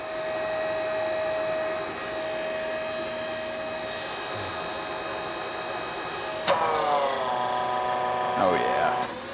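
A FlexArm tapping arm motor set to 82 RPM runs with a steady, fairly loud whine, then shifts pitch with a sharp change partway through.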